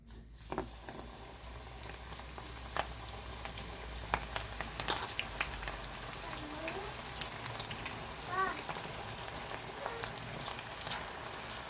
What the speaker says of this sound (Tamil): எண்ணெய் சுட்டுடுச்சு இப்போ நம்ம பிசைஞ்சு வச்சுருக்க மாவை சேர்த்துக்கலாம்